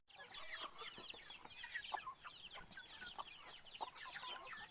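Many farm chickens clucking and chattering at early-morning feeding in a rural province yard, a busy overlapping flock heard fairly close and without talk.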